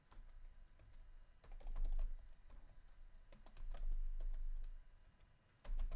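Keywords for an eBay listing being typed on a computer keyboard, a steady run of close, quick key clicks in irregular bursts with a few short pauses, with no talking.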